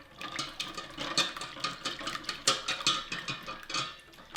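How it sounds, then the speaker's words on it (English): Three whole eggs and an extra egg yolk whisked in a pot for homemade lemon curd, a steady close scraping and clinking of the whisk with fast rhythmic strokes and no talking. "So I got 3 full eggs and then 1 egg yolk in here, and I want to whisk this up"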